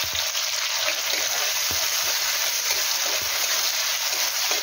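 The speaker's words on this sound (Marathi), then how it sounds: "हे सर्व आपल्याला हाय फ्लेमवर छान असे परतून घ्यायचे आहे।" Onion sizzling in oil over a high flame while being sautéed with green chillies for Hakka noodles, a steady loud hiss that holds throughout with a few faint utensil taps, no talking.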